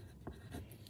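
Pen scratching across paper in short strokes, close and fairly quiet against a steady low background hum.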